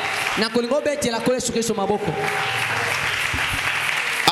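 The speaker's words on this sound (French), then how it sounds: "Est-ce que tu peux acclamer très fort le Seigneur Jésus? J'aimerais que tu acclames." A church congregation applauding and cheering the Lord Jesus, with a dense wash of clapping under loud, sustained voices calling out, fading into steady applause.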